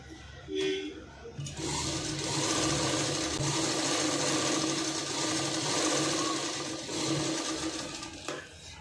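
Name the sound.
sewing machine stitching front dots on a garment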